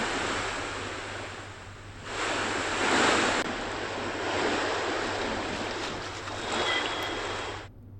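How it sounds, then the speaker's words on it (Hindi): The Alaknanda river in flood rushes with a loud, steady broadband roar of turbulent water, swelling briefly louder midway, with wind buffeting the microphone and no voices. "अलकनंदा नदी का विकराल रूप देखने को मिल रहा है।"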